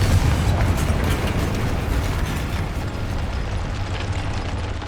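A Confringo fire spell blasting in Hogwarts Legacy: a loud, rumbling burst at the start that rolls into a fading, crackling roar over several seconds, with no voices.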